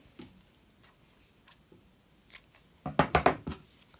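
Scissors snip through crochet yarn, a few faint clicks and then a quick cluster of three or four sharp, close cuts near the end.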